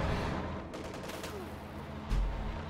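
A quad anti-aircraft gun fires in a World War II strategy game, a rapid, low, thudding stream of shots heard at moderate distance under ongoing battle noise and a faint voice.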